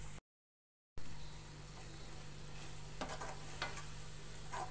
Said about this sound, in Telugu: ఆయిల్ ఇట్లా పైకి వచ్చే వరకు మనం చిన్న సిమ్లోనే ఉడికించుకోవాలి టమాటా మెంతి కూర